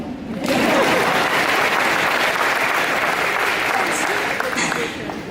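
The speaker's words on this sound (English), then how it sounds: "You can applaud." An audience at an eighth grade recognition ceremony breaks into loud, sustained applause that starts abruptly and fills the hall for about five seconds.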